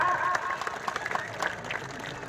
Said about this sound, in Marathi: टाळ्या वाजवा की जरा